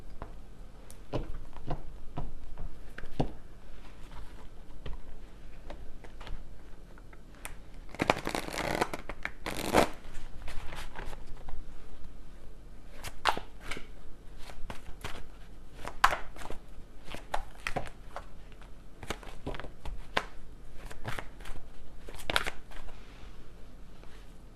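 Tarot cards shuffled and handled during a reading: crisp paper riffles and flicks recur throughout, with a longer burst of rapid card shuffling in the middle, close and fairly quiet.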